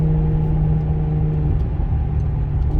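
Maserati Quattroporte Sport GTS engine in sport mode while driving, a steady mid-pitched drone with a firm low hum, heard from inside the cabin at a constant, even level without speech.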